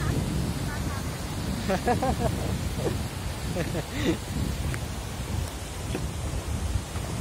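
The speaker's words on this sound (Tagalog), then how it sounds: "Lakas yung hangin." Strong wind buffets the microphone with a low rumbling roar near a hanging bridge between Calumpang and Magdalena, while voices talk intermittently over it.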